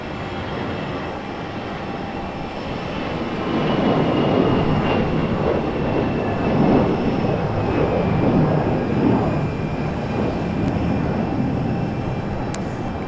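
An airplane departing from Raleigh-Durham airport sends a sustained, distant jet roar that swells louder midway and then eases slightly, a broad rumbling wash with no talk over it.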